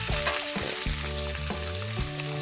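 Food frying in a pan over a charcoal stove, a dense steady sizzle with repeated scraping stir strokes and soft clinks, close and continuous, without speech.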